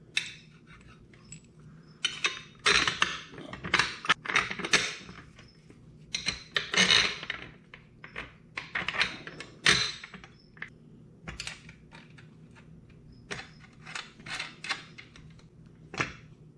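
Bolts and nuts being fitted into a metal frame for storing an ice shanty, a run of sharp metallic clicks, taps and rattles in irregular bursts, close and fairly loud, with quiet gaps between.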